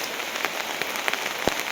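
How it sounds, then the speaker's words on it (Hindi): Heavy rain pattering steadily on an umbrella during a two-day downpour in a hill village, a dense close hiss with scattered louder drops and one sharp tap near the end, with no voices. "छाता इसलिए ले रखा मैंने क्योंकि भयंकर वाली बारिश हो रही"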